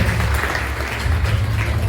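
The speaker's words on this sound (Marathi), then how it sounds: "सर्वांनी जोरदार टाळ्या वाजवून त्या ठिकाणी स्वागत करायचं आहे" An audience claps to welcome a guest at an HPV vaccination awareness gathering, producing dense, steady applause that fills the whole moment without any voices.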